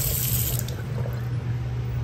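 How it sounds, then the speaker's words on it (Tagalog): Water drains steadily through a newly replaced lavatory sink P-trap, a continuous, close rushing and trickling flow with no talking. "Tuloy-tuloy na yung drain ng tubig"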